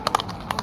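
Hooves of a racing horse cart clip-clop at a village cart race, a quick pair of sharp strikes then another pair, close and distinct over faint background noise.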